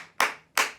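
Two sharp hand claps spaced about a third of a second apart, loud and close, closing out a children's chicken dance song.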